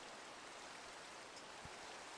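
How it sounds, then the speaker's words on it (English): Steady rain falls in Minecraft as a soft, even hiss that stays faint and constant throughout, with no other sounds. "Yeah, still raining out there."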